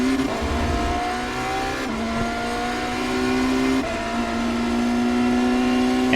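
A BMW M Hybrid V8 LMDh race car in the iRacing game at Sebring drones loudly and continuously, its engine pitch stepping down twice as it downshifts toward second gear.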